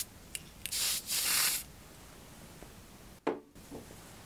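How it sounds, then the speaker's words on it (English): Two quick hissing bursts from a spray bottle, close and crisp, followed later by a short soft rustle in a quiet room. "The next is a slight spray."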